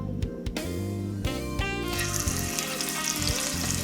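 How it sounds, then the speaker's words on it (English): Scallops searing in a hot skillet over medium-high heat, a steady loud sizzle and crackle of frying with a few clanks of the pan early on, close up and with no talking. "Now that my skillet is hot enough, I'm going to place the scallops in the pan."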